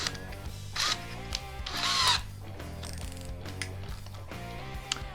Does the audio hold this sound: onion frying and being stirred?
no